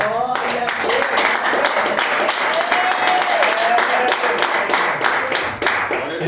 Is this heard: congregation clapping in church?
yes